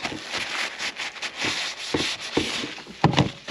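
A cloth rubs light rust off a firearm coated with Ballistol oil, making repeated close, scratchy strokes in an uneven rhythm with a few sharper scrapes near the end.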